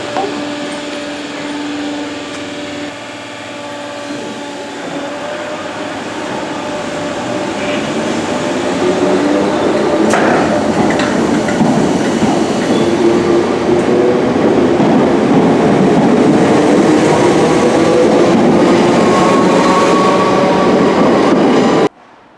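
An electric Merseyrail commuter train hums and whines as it pulls away from a station, its motor pitch rising and the rumble building steadily, loud and close.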